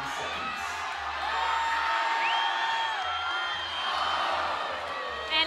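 Crowd at the 2018 Yank-N-Yard Open climbing finals cheering, whooping and shouting loudly after a climber falls near the top, a dense sustained roar with high yells rising through it.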